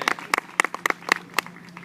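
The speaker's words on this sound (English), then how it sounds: "let's give Emma and Gracie one more round of applause" A small outdoor crowd at a gazebo event in a town gives scattered, uneven hand claps, a sparse round of applause with separate sharp claps and no voices.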